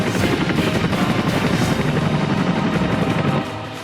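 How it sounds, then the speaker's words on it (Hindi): An Indian Air Force Chinook twin-rotor helicopter, heard as a loud, close, dense rotor thrum and engine roar that holds steady before easing slightly at the end. "वायुसेना के बेड़े की शान चिनूक हेलीकॉप्टर"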